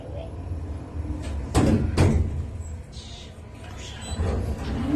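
Lift doors sliding open in an elevator, heard as two loud broadband clunks about half a second apart, followed by quieter mechanical shuffling and room noise with people talking nearby.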